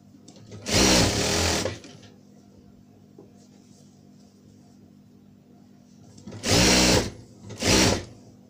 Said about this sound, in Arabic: هيبقى الظهر معايا هنا والوش على الوش هنا، وهبدأ اخيط